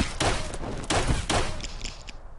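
Gunfire in the shooting game Gunblood, three loud rapid bursts of shots spaced about half a second apart, close and punchy, followed by fainter trailing pops.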